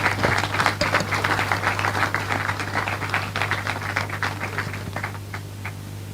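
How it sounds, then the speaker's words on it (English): Staff at a youth entrepreneurship program's closing ceremony receive a round of applause: lively clapping from a modest crowd with distinct individual claps, tapering toward the end over a low steady hum. "Round of applause."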